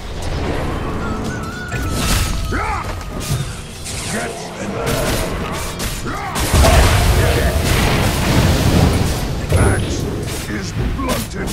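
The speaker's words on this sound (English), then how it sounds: "Dire's bottom tower is under attack." Combat in the Dota 2 video game as a tower comes under attack: repeated booms, crashes and mechanical impacts layered into a dense, continuous battle din, with voices speaking over it.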